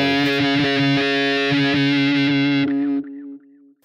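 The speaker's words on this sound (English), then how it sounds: "So that's the wah on." A distorted electric guitar through a Line 6 HD500 wah plays a sweeping, vocal-like filtered riff, then a final note rings out and fades.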